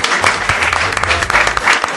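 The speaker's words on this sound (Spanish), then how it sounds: "les pido un fuerte aplauso" Loud, sustained audience applause with dense clapping filling the room at a live podcast recording during a podcast festival in Argentina, steady from start to finish.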